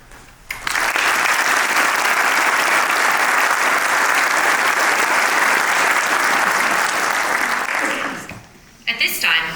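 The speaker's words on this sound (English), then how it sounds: "please hold your applause until all staff members have been introduced" Loud, sustained audience applause fills a hall at a police academy graduation ceremony, a dense wash of clapping for about eight seconds before dying away into the start of a voice.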